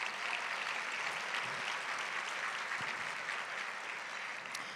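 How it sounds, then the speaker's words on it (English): Sustained applause from a conference audience at a women-in-leadership event, a dense steady wash of many hands clapping that holds evenly for several seconds with no voices over it. "Let's give ourselves a round of applause for that."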